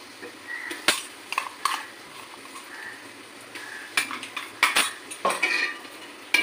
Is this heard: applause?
no